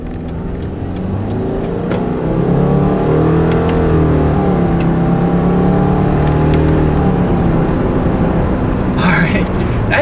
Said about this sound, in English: The paddle shifters do react quickly, but with it being a CVT, which is more of a smooth automatic transmission, it's still going to be really smooth gear changes